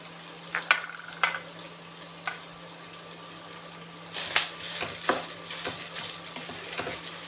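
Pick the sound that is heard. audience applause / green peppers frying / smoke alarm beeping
green peppers frying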